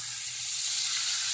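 Ocean trout sears in a hot skillet with a splash of wine over a high flame, giving a steady, loud, close sizzle and hiss that runs unbroken with no voices.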